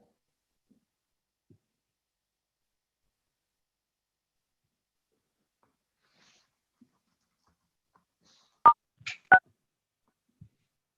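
Three or four short phone keypad touch-tones, *6 or *9 pressed to unmute on a county council virtual open house call, clustered close together near the end after a long near-silent stretch.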